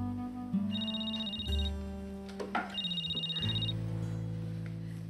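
A telephone rings indoors in two separate high, trilling bursts over a low, steady tonal bed, in a dramatic domestic scene. No one speaks.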